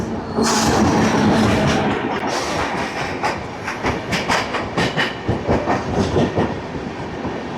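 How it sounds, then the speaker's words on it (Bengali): The Neelachal Express (12875) from Bhubaneswar rolls along the tracks toward Jaleswar station with loud rhythmic clickety-clack beats and a continuous rumble. "আর আমাদের ট্রেন এখন ছুটে চলেছে জলেশ্বর স্টেশনের উদ্দেশ্যে"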